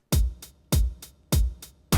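A 90s G-funk style beat with a bass slide and a short drum fill, looping punchy kicks and bright snare hits in a steady rhythm with a deep bass underneath, loud and close with no voices.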